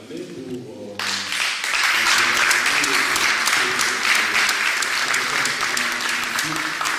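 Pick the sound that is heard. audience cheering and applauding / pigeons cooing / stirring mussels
audience cheering and applauding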